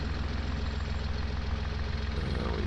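A farm vehicle engine in Farming Simulator reverses toward a back wall with a steady, rumbling drone that stays even and fairly close throughout.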